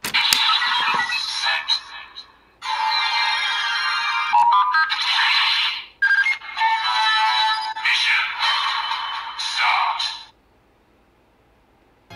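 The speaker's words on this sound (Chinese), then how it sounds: "音效是那种手机的音效 ，Mission Start" A Kamen Rider Geats toy phone plays its electronic Mission Start sound effect, a loud, bright run of synthesized tones and jingles in bursts that cuts off to near silence at the end.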